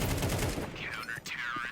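Gunfire in a professional Counter-Strike match on the Nuke map, MongolZ vs B8 at PGL Cluj-Napoca: a dense, rapid burst of shots up front, then sweeping whooshing game effects, with a caster's voice faintly present.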